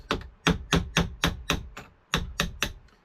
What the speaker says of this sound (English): This is a very small hammer.